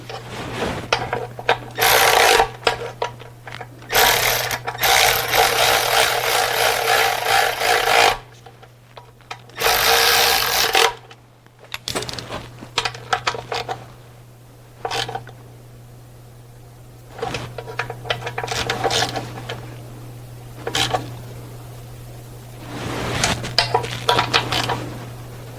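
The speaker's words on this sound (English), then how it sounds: "So now we can tighten the bolt for the oil level sensor." On a Sprinter van, the bolt for the oil level sensor is tightened with repeated bursts of close, scratchy ratcheting and rubbing tool noise separated by short pauses. A steady low hum runs underneath.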